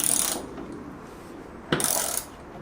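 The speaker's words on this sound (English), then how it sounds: "So Sam is going to demonstrate the removal of these bolts about 9 times." A ratchet loosens floor bolts inside a VW Crafter van, giving two short bursts of close, busy clicking separated by a quiet pause.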